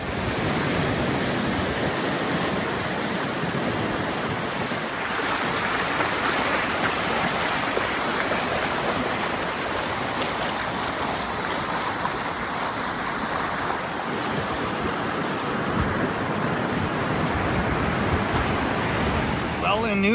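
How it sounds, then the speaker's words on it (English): A small river in New Brunswick flows with a dense, continuous rushing wash that stays fairly loud and even throughout, with no voices. "It's a really nice little river system here."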